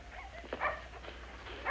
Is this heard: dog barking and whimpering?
yes